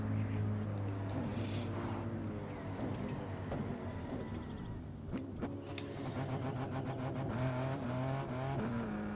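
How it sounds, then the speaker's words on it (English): Car engine in The Crew 2 racing game, a loud sustained drone with steady revving throughout, tires spinning and squealing, with a sharp clack near the middle and rising high-pitched chatter toward the end. "this thing does wheel spin"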